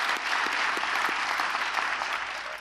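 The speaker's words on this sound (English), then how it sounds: "I think we really need to give a round of applause for that trailblazing," Dense, steady applause from a large audience at a Los Angeles awards night, loud and continuous with no voices over it.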